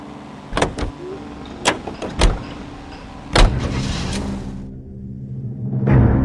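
A car in the video game LA Noire starts up with door clunks and mechanical clicks, then its engine hums steadily and rises toward the end.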